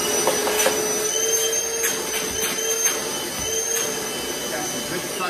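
A Milwaukee 18V cordless shop vacuum runs with a steady, loud whooshing roar and a faint high whine, close by and continuous throughout, with no pauses in the airflow.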